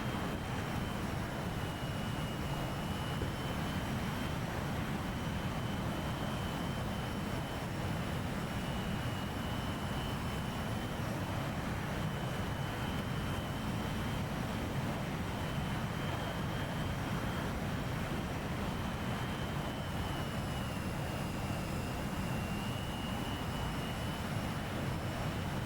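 A J11 fighter jet on landing approach in inclement weather, heard as a steady, loud engine roar with a constant high whine, continuous and unbroken throughout.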